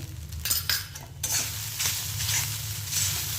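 Sabudana khichdi with sugar stirred in a pan, spoon scraping and clinking against the metal over a continuous close sizzle, the strokes coming in uneven bursts.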